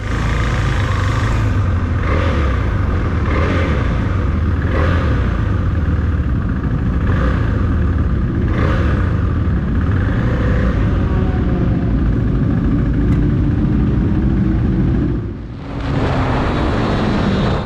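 Motorcycles roll up to the starting grid at Thompson Speedway, a loud, continuous engine drone with throttle blips and a brief dip before the engines pick up again.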